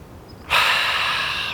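Slow, deep inhalation through the nose by a distance runner practicing breathing technique, a steady airy rush that starts abruptly and holds, close and alone with no talk.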